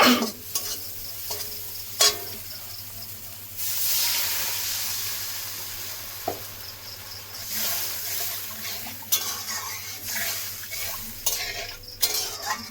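Water hits fried spice masala in a pan, bursting into a hissing sizzle of steam that rises and fades, while a spoon scrapes and stirs with repeated sharp clacks against the pan, close by.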